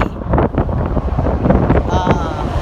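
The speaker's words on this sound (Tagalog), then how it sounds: "It's so windy here because we're in the mountain." Strong mountain wind buffets the microphone in loud, gusty roars beside a broken-down truck, heard alone without speech.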